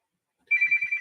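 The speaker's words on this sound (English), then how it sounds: "And my phone is ringing, of course." A phone rings indoors with a short electronic ringtone, a bright warbling tone in quick pulses that starts abruptly after a moment of silence and carries on to the end, with no talking.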